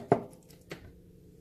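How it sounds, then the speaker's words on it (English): Two soft knife strikes mashing char-grilled aubergine and garlic on a board, a sharper first tap followed by a lighter second one, close and quiet with no talking. "I've mashed it using my knife"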